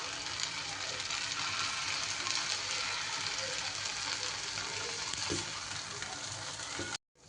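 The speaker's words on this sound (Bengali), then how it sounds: "ছোট ছোট আকারে বড়ার আকারে এটাকে ভেজে নেব।" Small potato and semolina fritters frying in hot oil over a medium-low flame, giving a steady, close, broadband sizzle that runs unbroken for about seven seconds and then cuts off abruptly.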